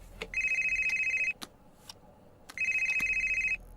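A telephone rings in a dramatic short film, two loud, close electronic ring bursts separated by a pause, each a steady warbling tone, with no one talking over it.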